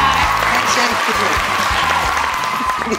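A studio audience on a Turkish cooking competition show claps in a loud, dense burst that runs steadily throughout, with a voice speaking over it.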